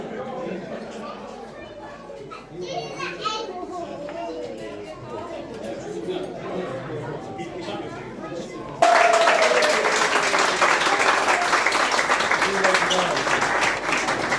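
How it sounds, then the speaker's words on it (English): Guests at a wedding celebration chat and murmur, then suddenly burst into loud, dense applause and clapping that continues steadily to the end. "And a big round of applause for Leo as well."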